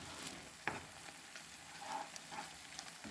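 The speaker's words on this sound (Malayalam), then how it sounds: "ഇതുകൂടി ചേർത്തിട്ട് നന്നായിട്ടൊന്ന് വഴറ്റിയെടുക്കാം" An apple jam mixture with lemon juice is sautéed in a pan, giving a quiet, close sizzle with a sharp spoon scrape or tap against the pan early on and soft stirring after.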